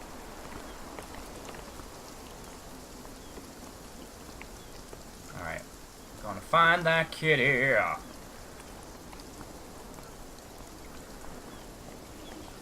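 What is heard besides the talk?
rain sound in video game Beyond Eyes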